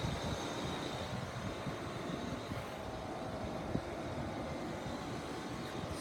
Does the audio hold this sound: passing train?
yes